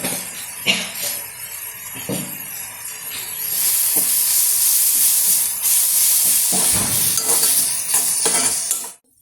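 Vegetable filling for a shallow-fried veggie cheese roll sautés in a pan with pepper powder, giving a steady, close sizzle and hiss with occasional scrapes of stirring that grows louder midway and then stops abruptly.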